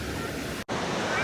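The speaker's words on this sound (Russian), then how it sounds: "Осторожно, волны!" Steady roaring wash of Atlantic ocean surf at Porto, Portugal fills the clip, broken by a brief moment of silence midway, then the waves continue.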